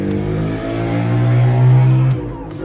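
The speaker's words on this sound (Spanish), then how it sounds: "La moto es sonido ambiente." Motorcycle ambient engine sound in the FIFA 20 video game, a steady loud droning hum that swells slightly, then cuts off near the end.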